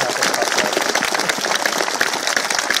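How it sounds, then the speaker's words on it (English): Dense, steady applause from a large audience at a US Air Force basic military training graduation, loud and continuous clapping filling the whole space without pause. "Give them a round of applause."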